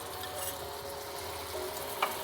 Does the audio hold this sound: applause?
no